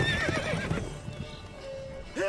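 Horse in a video game whinnying loudly up front, then hooves clip-clopping in a steady galloping rhythm, with another short neigh rising at the end.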